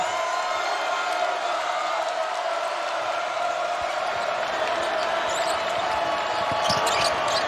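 Steady roar of a college basketball arena crowd at an NCAA game between Auburn and West Virginia, a dense continuous wash of cheering with occasional sneaker squeaks and bounces heard at a distance.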